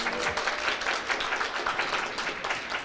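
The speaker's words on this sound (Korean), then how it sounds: "제가 박수와 환호 부탁드리지도 않았는데 이렇게 자발적으로 해주셔서 너무 감사드립니다" Audience applause with cheering at the opening of the 2020 Busan Dahaengbok education festival, a steady dense wash of clapping running the full length without a break.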